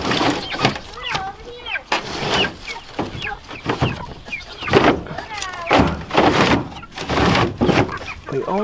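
Backyard chickens on a farm clucking and squawking in short bursts throughout, close by, mixed with people talking over them.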